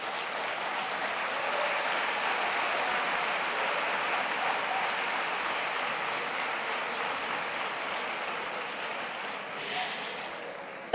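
An audience at a round-table event claps and cheers steadily for about eleven seconds, a dense, even wash of hands that holds at moderate loudness and thins slightly near the end.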